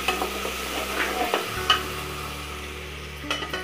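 Ginger paste, with garlic paste, fries and sizzles in a pan while being stirred, with a steady hiss, scraping strokes and a few clinks of the spoon against the pan up close.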